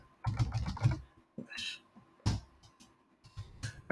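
Bursts of typing on a computer keyboard, with quick clustered keystrokes in several short runs separated by pauses, close and moderately loud.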